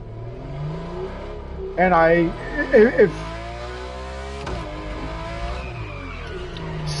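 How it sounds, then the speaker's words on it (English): A 600-horsepower Subaru WRX in the rally game Dirt Rally revs hard in short, rising bursts over a steady engine drone, with someone talking over it throughout. "I fucking send it in a 600 horsepower Subaru WRX"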